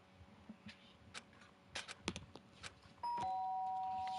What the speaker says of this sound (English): Sounds of a doorbell.